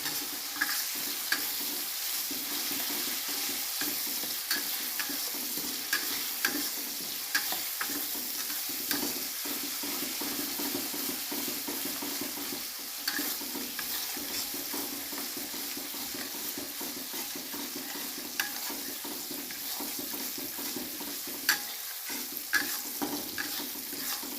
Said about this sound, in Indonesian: Kita goseng-goseng terus sampai masak cabenya